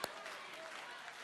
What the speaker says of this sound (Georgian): ტაშით აპლოდისმენტებით გავაცილებთ